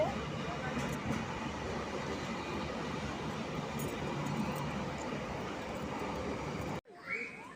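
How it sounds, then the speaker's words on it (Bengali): A train arriving at a station rumbles steadily and loudly nearby for several seconds, then the noise cuts out abruptly, leaving a brief quieter moment at the end. "দেখো আমার ট্রেন এসে চলে এসেছে"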